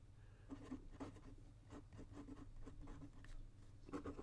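A titanium ultra-flex fountain pen nib scratching across paper, faint continuous strokes with small pauses, close up and quiet.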